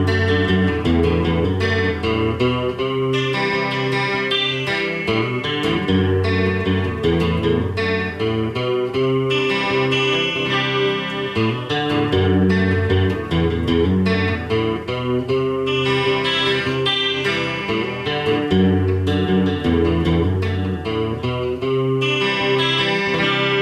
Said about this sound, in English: let's see how the Stratocaster is going to sound